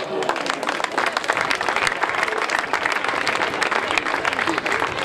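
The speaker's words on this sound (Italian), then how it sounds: "Vogliamo fare un grande applauso." Spectators at an outdoor athletics meet in Motta San Giovanni give a steady, dense round of applause that continues evenly throughout, with faint crowd noise underneath.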